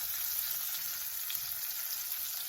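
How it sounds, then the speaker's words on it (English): Pork chops sautéing in a hot pan give off a steady, even sizzling hiss that holds level throughout, with no voices. "I'm going to let them saute on one side for about maybe 4 or 5 minutes"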